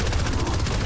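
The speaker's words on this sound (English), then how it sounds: "somebody's shooting at me" Gunfire in the Fortnite Season 4 battle royale video game: a loud, continuous burst of rapid shots filling the whole short moment, with no talk.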